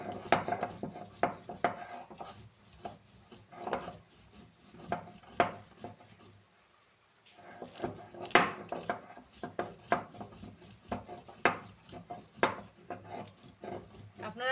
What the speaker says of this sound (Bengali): শুধু আজকে আপনাদের দেখানোর জন্য আমি শিলনোড়া নিয়েছি।